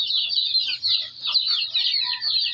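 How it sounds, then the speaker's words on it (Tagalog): A pet chicken clucking, a short run of close, high nasal clucks and chirpy calls coming in quick bursts with brief pauses, alone and fairly loud. "Yan ang manok lang."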